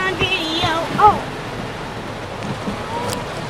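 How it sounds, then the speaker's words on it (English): A major storm dumping heavy rain near a gas station, a dense steady roar of pouring water with a brief voice over it early on. "Oh my god, look at all that water! Major storm, guys."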